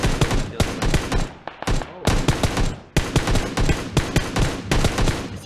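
Loud, rapid gunfire fills a PUBG Mobile match in repeated sustained bursts broken by brief pauses, close and dominant with little talk.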